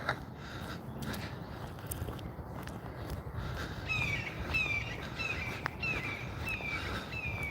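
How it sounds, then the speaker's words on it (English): Blue jays calling on a morning walk outdoors, a series of short sharp chirps repeating in the second half over soft ambient noise and footstep-like rustle. "Blue Jays are chirping this morning."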